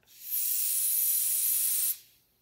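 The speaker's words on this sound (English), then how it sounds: "If I let go, it gets smaller because the air comes out." A steady high-pitched hiss of air rushes out for about two seconds, close by, then cuts off abruptly.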